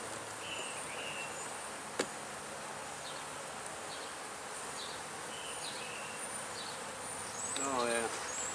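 Honeybees buzz around opened hives outdoors in the sun, a steady hum with a sharp click near two seconds and a louder close pass near the end.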